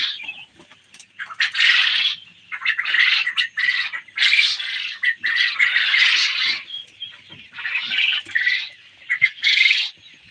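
Quail on a farm calling in dense, overlapping bursts of shrill squawks and chirps, a busy flock close by with brief pauses between volleys, no talking.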